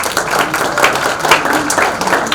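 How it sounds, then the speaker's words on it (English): Applause at a tech ideathon and felicitation event, a lively, fairly loud burst of many people clapping together in a hall for a couple of seconds. "Can we have a huge round of applause?"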